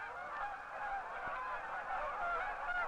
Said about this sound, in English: If sudden storms come up or fog blocks their way, the geese fly lower and closer together.